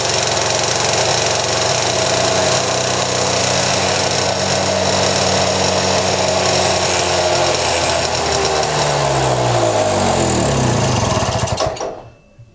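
A small engine drones loudly at high revs as its carburetor runs out of fuel, its pitch climbing and wavering, then winds down and cuts out abruptly near the end.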